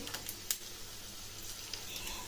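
Garlic cloves, mustard seeds, cumin, urad dal and dried red chillies sizzle in hot oil as a tempering for raw mango dal, giving a faint, steady hiss with a few small pops close by.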